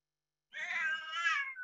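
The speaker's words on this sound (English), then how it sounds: "that is a cat" A cat gives one drawn-out meow, clear and fairly close, after a moment of silence on a remote meeting call.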